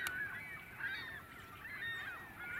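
Redhead ducks squabble, a female feisty with a male, giving repeated harsh nasal honking calls that overlap in a continuous quarrel, moderately close outdoors.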